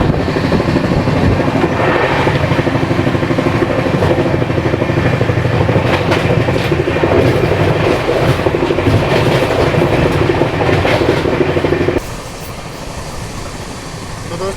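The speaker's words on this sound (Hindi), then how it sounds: "जबरदस्त चलता राजधानी।" Sealdah Rajdhani Express running at about 130 km/h, heard from inside a coach as a loud, steady roar of wheels and rushing air with rail clatter, the noise dropping sharply near the end.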